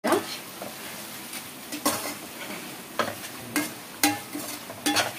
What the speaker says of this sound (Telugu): ఇది చక్కగా కలిపేసేసుకుందామండి.